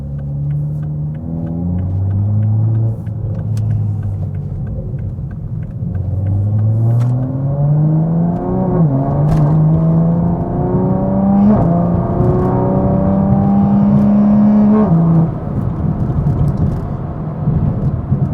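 Engine and exhaust of a 700-horsepower 2020 Toyota Supra with in-cabin sound enhancement removed, heard from inside while driving: a loud, deep drone that climbs through the gears in repeated rising sweeps, with brief dips at each shift.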